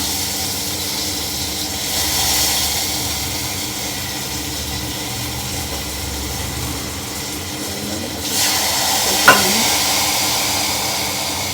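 Onion fries lightly in a pan, a continuous broad hiss and sizzle holding steady throughout, with a brief sharp clink near the end and no voices.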